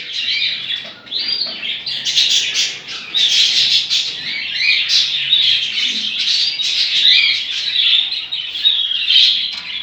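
Dense, continuous chattering of many budgerigars in a cage, high-pitched chirps and squawks overlapping steadily throughout, close by.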